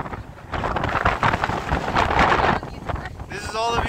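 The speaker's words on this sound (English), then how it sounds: "It's pretty fucking windy up here." Strong wind buffets the microphone on top of a lighthouse on Utila, Honduras, as a continuous loud roar with gusty surges. A voice is briefly heard near the end.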